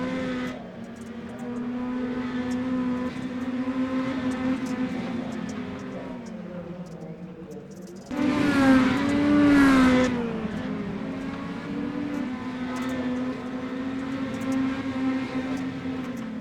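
Dirt mini stock race cars roaring around a dirt track, engines droning and revving steadily, with one car passing close and loud midway while a commentator talks over the noise.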